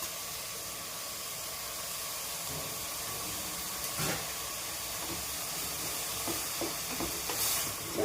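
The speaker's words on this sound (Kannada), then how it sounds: "ಓಪನ್ ಮಾಡಿ ಮತ್ತೆ ಸ್ವಲ್ಪ ಕಲಸಿ ಇದಕ್ಕೆ ಹೆಚ್ಚಿರೋ 2 ಟೊಮೆಟೊ ಹಾಕೋಣ" Beetroot sagu is stirred in a pan as chopped tomatoes go in, with a faint steady sizzle and hiss broken by soft scraping taps of the spoon.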